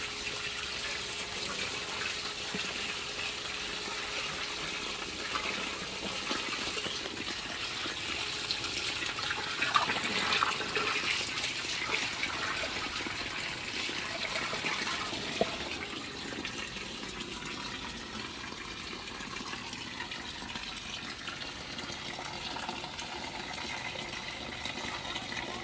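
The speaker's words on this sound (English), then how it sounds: "I want to take this hose again, flush around up here in the top, let it settle back down through the sand" A garden hose flushes water through the sand filter of a backyard tilapia pond, making a continuous soft splashing and trickling that holds steady throughout with no voices.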